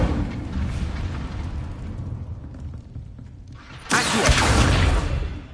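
Incendio fire spell cast in Hogwarts Legacy, a rumbling whoosh that fades, then a sudden loud burst of fiery roar that holds strongly to the end, close and without speech.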